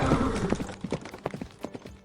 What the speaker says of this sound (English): I'm really enjoying this horse.